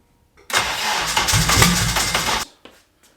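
A car engine with a missing ground connection cranks and fires, a loud roaring burst lasting about two seconds before cutting off abruptly, followed by a brief faint catch.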